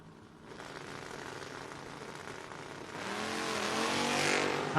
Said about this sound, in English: Going to look over and watch Sage Embley trying to chase him down, the Sailorsburg, Pennsylvania-based 80 Camaro